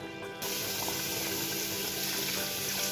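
Water pours steadily into a pot of nearly cooked meat for couscous, a continuous splashing gush that starts abruptly and runs loud and close without a break.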